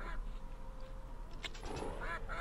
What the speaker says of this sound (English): Hey, duck.